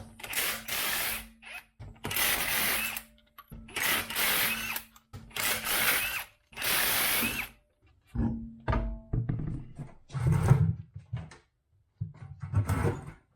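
A ratchet loosening the lug nuts on a Toyota Corolla wheel: repeated loud, close bursts of mechanical whirring and clicking, about five in a row, then scattered clunks and handling noises.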